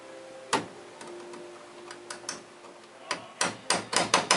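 Sharp hammer strikes ring out on metal, a few spaced taps first, then a quicker run of blows near the end, close and clear.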